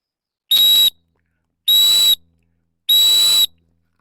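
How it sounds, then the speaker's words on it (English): Three loud, piercing blasts from search and rescue whistles blown during a sound sweep in the woods. Each steady tone lasts about half a second, with even pauses between the blasts. "The whistles are loud."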